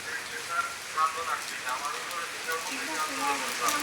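Rain falling on a street, a steady bright hiss of drops hitting the surface with small splashes, moderately loud and constant, with a faint voice in the background.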